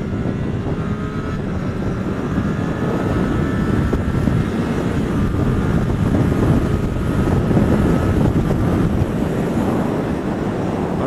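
A stock-exhaust Triumph Street Triple 675, restricted to 47.5 hp for A2 riders, drones steadily while being ridden, its engine note blended with heavy wind rush at constant loudness, no talking.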